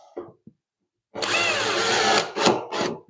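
Power drill driving screws into a wall during a renovation, with waterproofing work underway: a couple of short taps, a pause, then a loud sustained whir of about a second, followed by two shorter bursts.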